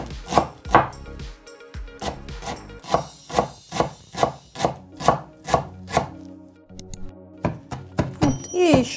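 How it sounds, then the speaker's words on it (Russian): Fresh parsley is chopped with a knife on a wooden board in quick, regular thuds, about a dozen sharp close strikes in a steady rhythm, with a brief pause and then faster chopping near the end. "а я пока порежу петрушечку"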